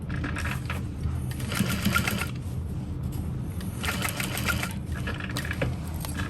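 A sewing machine stitches over a flap on a small fabric bowler hat, running in close, steady bursts of rapid mechanical whirring with brief pauses between them.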